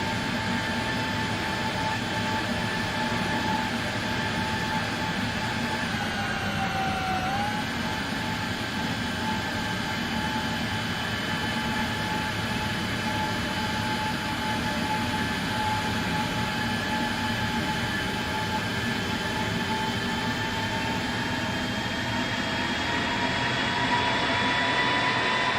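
Boeing 757 engines in the flight simulator X-Plane 12 with an add-on engine sound pack give a loud, continuous drone with sustained whining tones that dip briefly in pitch early on, then hold steady without speech.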